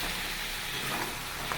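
Goat meat fries in a pan with garlic and onion, giving a soft, steady, continuous sizzle with faint stirring and no voices.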